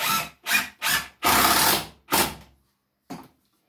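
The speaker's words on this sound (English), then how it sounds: "Now I'm going to get my drill again" A power drill driving a screw while assembling a shaving horse, in close, loud bursts: three quick pulses, a longer sustained run, one more burst, then a brief final blip. No talking.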